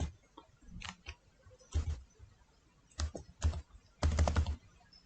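Keystrokes typing on a computer keyboard in short, irregular bursts, soft and fairly close, with pauses between clusters and no voices.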